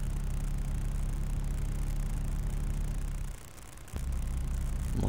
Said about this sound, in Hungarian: A motor is hangosan, mint a Scania-nál.